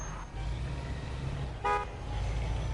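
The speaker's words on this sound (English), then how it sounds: "Okay, now honk your horn." A car horn in the video game Mafia 2 gives a short, clear honk over the steady low hum of an idling engine.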